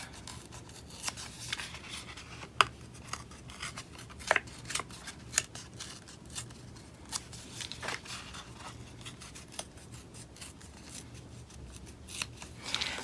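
Paper being ripped by hand for texture, a series of short, sharp tearing rasps spaced irregularly, close and quiet with no talk.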